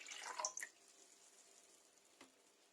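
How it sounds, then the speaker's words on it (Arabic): Warm water is poured from a glass into an electric blender jar, six glassfuls in all: a soft, brief splashing gush at the start that quickly fades to a faint, quiet hiss, with no one talking. "كنجيب خلاط كهربائي كنضيف فيه 6 كؤوس من الماء"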